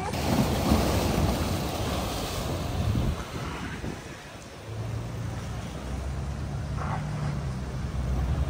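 Large waves break on the shore near San Francisco's Golden Gate Bridge in rainy weather, a continuous rushing surf wash mixed with gusting wind on the microphone, dipping briefly midway before rising again.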